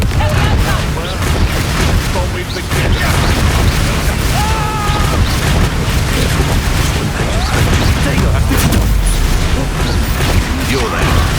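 The Confringo fire-blast spell going off in the game Hogwarts Legacy: a dense, loud, continuous wash of booms and crackling impacts that fills the whole stretch, mixed with other battle noise.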